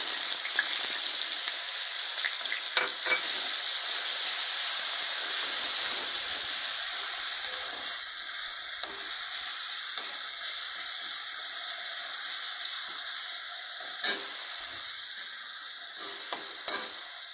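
Onion paste fries in hot oil for a prawn malai curry, giving a steady, close sizzle and hiss, with occasional stirring clicks and scrapes and no talking.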